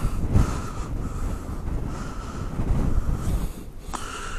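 Gusty outdoor wind buffets a microphone near roads ridden on a Yamaha R6 motorcycle, a steady low rumbling roar swelling and easing in waves with no voices.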